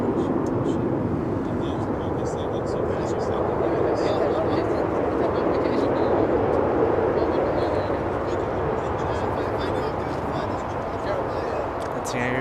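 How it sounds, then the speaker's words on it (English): A United Boeing 737 airliner roars with reverse thrust on landing at Los Angeles International Airport, a loud, steady, broad rumble throughout, under people talking. "Here's some reverse thrusts, and there it is from that United 737."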